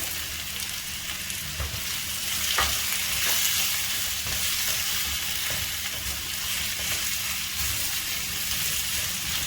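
Grated coconut and chopped raw mango sautéing in a pan for coconut mango chutney, a steady close sizzle with occasional stirring scrapes throughout.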